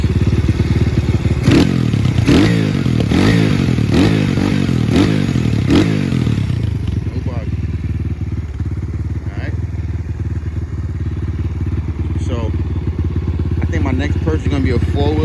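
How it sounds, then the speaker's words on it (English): A 125 pit bike engine revved with the throttle: several sharp, loud revs in a quick rhythmic series, then settling into a rough, steady idle with occasional small blips. "I'm gonna go ahead and hit the throttle for you guys"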